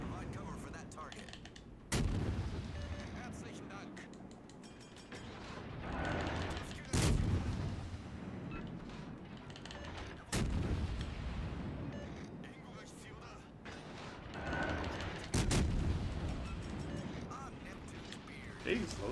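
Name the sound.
battleship artillery fire in World of Warships Legends video game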